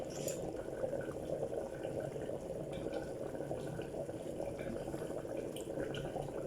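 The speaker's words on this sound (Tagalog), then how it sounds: "Titingnan natin ang rice. Kumukulo pa siya." Steady bubbling and gurgling of rice boiling in a pot on the stove, continuous and close, with a soft hiss underneath.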